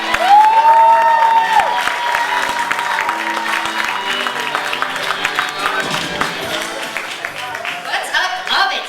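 Comedy club audience applauding and cheering as comedian Samantha Larsen is welcomed to the stage, a loud, dense burst of clapping and whoops that holds steady and slowly thins out.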